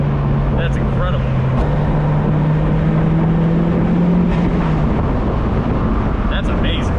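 A turbocharged Mazdaspeed Miata accelerating hard from inside the cabin, a loud steady engine note rising slowly in pitch, under road and wind noise, with a voice speaking over it.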